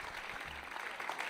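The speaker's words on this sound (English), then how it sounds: "Give them a big hand of applause" Faint, distant applause from a crowd at an evening event honoring Israel, a soft continuous patter of clapping hands with a low rumble underneath.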